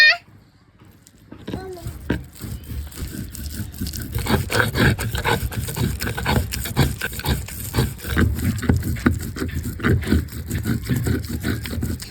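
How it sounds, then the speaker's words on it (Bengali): Fried dried chillies and garlic ground on a stone slab (pata) with a stone roller: rough, rhythmic scraping and grinding strokes that continue steadily after a short quiet start. "এবার ভালো মতো পাটায় বেটে নেব।"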